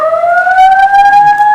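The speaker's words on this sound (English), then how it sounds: "Oh, that's the prison siren." A prison siren wails in a steady rising tone, loud and close, sounding alone with no voices.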